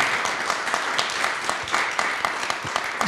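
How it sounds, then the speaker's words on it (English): Panel event audience applauds with dense, steady clapping that stays fairly loud for about three seconds, with no voices over it. "So please give a round of applause to her."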